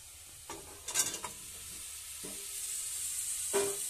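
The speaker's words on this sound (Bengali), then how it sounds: "দিয়ে ভালো করে নাড়িয়ে নিচ্ছি" Potatoes and pumpkin, fried earlier, being stirred into a pan of cooked-down spices and chickpeas with a little water: a few soft scraping stirs over a faint steady sizzle, no talk.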